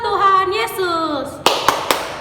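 Children in a Sunday school service clap their hands: three sharp, separate claps land near the end, right after a sustained singing or speaking voice.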